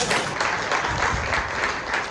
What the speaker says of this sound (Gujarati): જોરદાર તાળીઓથી વધારશું આપણે